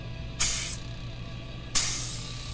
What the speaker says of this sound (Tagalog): Ayan, gumana na yung ating compressor.